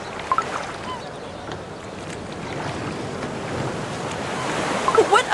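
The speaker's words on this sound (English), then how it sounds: "The waves are a tad rough today indeed." Rough ocean waves in the video game Cookie Run Kingdom roll as a broad continuous wash, swelling louder toward the end, with a few faint chimes and no speech.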